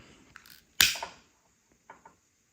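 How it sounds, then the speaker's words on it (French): A few soft, dry crackling pops close by from a burning wooden candle wick, one sharper burst among quieter ticks, in an otherwise quiet room. "J'adore les mèches bois parce que c'est un bruit de feu qui crépite."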